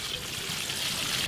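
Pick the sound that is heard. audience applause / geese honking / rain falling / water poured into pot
water poured into pot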